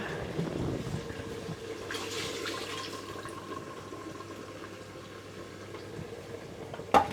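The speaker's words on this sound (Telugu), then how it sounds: "ఇప్పటిదాకా గంజు మీద ఉడికిన వాటర్ ఇప్పుడు అందులోనే పోయబోతా ఉన్నాడు" Hot boiled water poured into a pot of mutton curry gives a steady, rushing pour with a soft bubbling hiss throughout, ending in a sharp clink.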